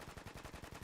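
Machine gun fire on a training range during an advanced machine gun course: a rapid, even string of roughly ten shots in one short burst, quite faint and distant-sounding, with no voices.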